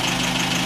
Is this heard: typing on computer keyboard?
no